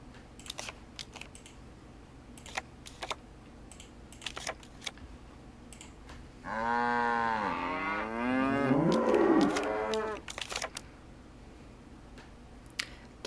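Amid scattered mouse clicks and keyboard taps, two overlapping moos rise in the middle, one after another, from cattle in a Nancy Drew: The Captive Curse board minigame; fairly close, then clicking resumes.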